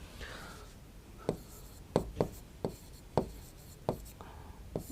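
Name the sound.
writing on a board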